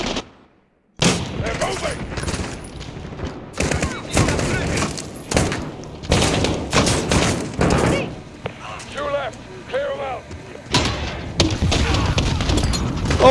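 Grenade launcher shots and explosions in Call of Duty Modern Warfare, loud repeated blasts and gunfire after a brief silent start, with a voice talking in between.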